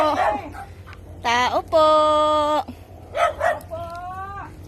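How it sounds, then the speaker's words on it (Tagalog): A dog barks and gives drawn-out, whining howls close by, in several separate bursts, while people talk in the background. "May aso."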